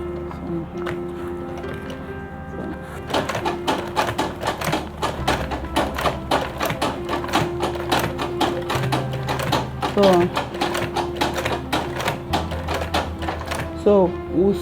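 Sewing machine stitching fabric for a lunch bag, a rapid rhythmic needle clatter starting after a quiet opening and running in bursts, with a person talking over it.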